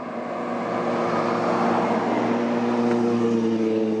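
Kawasaki KLR motorcycle engine on the move along a road, a loud steady drone that rises slightly in pitch as it pulls, close and continuous with no talk.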